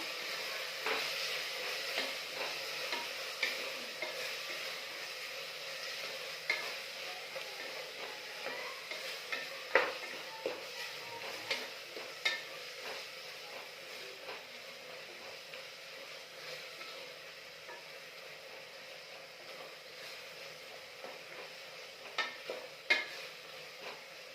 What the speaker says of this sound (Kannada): ಇವಾಗ ನೀಟಾಗಿ ಎಲ್ಲ ಫ್ರೈ ಮಾಡಬೇಕು.